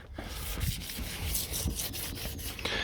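A sanding block is rubbed wet over the bodywork of a Ford Focus ST in close, quiet, rhythmic back-and-forth scrubbing strokes.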